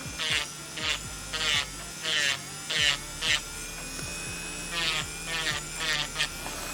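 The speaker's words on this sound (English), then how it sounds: "We're just going to drill a little bit on the other side." A small electric nail drill files nails in repeated short bursts, its high buzzing pitch rising and falling as it grinds in quick passes, close to the microphone.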